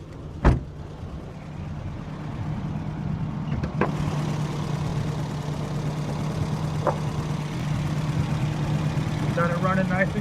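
A rebuilt car engine starts with a sharp burst and then settles into a steady, smooth idle. The low, even hum runs close and continuous for the rest of the clip.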